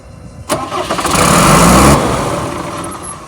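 A 1994 Ford F-700 flatbed truck's 5.9 straight-six with a fuel issue cranks and catches with a loud burst, revs roughly for about a second and a half, then dies away without staying running.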